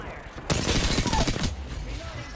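Sustained gunfire burst in the video game Apex Legends, a loud dense volley lasting about a second that cuts in sharply and then fades.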